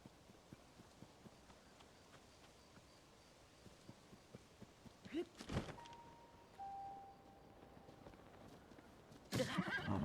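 A horse whinnies and gallops in the game Tears of the Kingdom, with soft rhythmic hoofbeats throughout, a loud neigh in the middle and another burst at the end.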